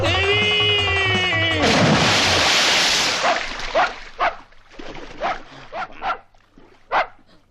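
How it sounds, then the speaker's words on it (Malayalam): A dog barks in a rapid series of sharp, loud yelps close by, following a burst of loud crashing noise and a brief musical passage at the start. "പട്ടിയായിരുന്നു"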